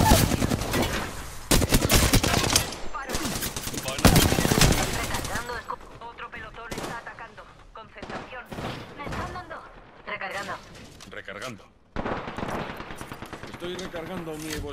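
Gunfire in the Apex Legends video game: loud bursts of rapid automatic fire at the start, then scattered shots and thuds, with a voice speaking over the action.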